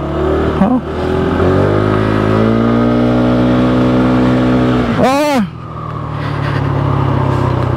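A Kymco KRV motorcycle engine runs steadily while being ridden, a loud continuous drone with harmonic tones that shift slightly, plus a brief rising-and-falling whine near the end; someone talks over it throughout.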